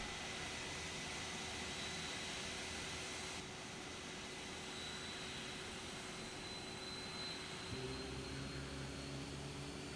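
Steady jet engine roar of an EasyJet A320neo in the X-Plane 12 flight simulator, a smooth, continuous broadband hum with faint tonal whine, deepening slightly near the end.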